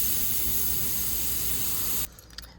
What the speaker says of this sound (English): we're gonna purge it out of this little Schrader valve right here